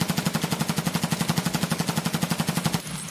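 Steady full-auto fire from a Mutant rifle during a standing recoil test in a first-person shooter game, around thirty evenly spaced loud cracks in one unbroken burst that cuts off near the end, leaving a faint ringing tail.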